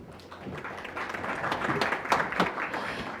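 Audience applause after presentations at a National Assembly forum on drones, a dense, fairly soft wash of clapping from a crowd that swells slightly and carries on steadily.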